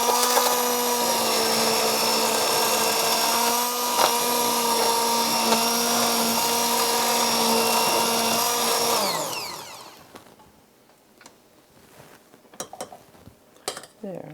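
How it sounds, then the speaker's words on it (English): A kitchen blender runs with a steady, loud motor whine for about nine seconds, then spins down and stops, followed by quieter clinks and handling sounds. "then we'll use the blender"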